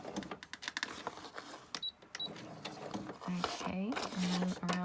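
A sewing machine stitching roughly around an envelope flap for journal ephemera, short whirring runs of stitches starting and stopping, with a person talking softly over parts of it.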